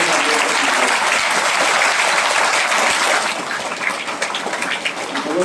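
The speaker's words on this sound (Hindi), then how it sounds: "ताली बजाने में कैसी कंजूसी?" Dense, loud applause from an audience at a school cultural programme, a steady wash of many hands clapping that holds throughout and eases slightly toward the end.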